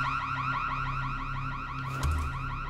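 A car alarm in the Dying Light video game, a loud wailing siren that sweeps up and down in rapid repeating cycles throughout, with a brief thud near the end.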